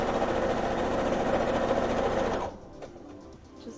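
A sewing machine stitches a rolled hem on a dress, running loud, steady and close for about two and a half seconds before stopping abruptly, leaving quiet room noise.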